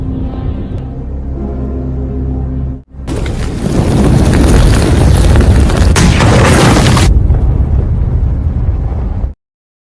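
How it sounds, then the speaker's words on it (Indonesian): A burning ship explodes in the film Survive: a quiet musical passage cuts out, then a huge, roaring blast rumbles loudly for several seconds before stopping abruptly. "tepat sebelum kapal itu meledak"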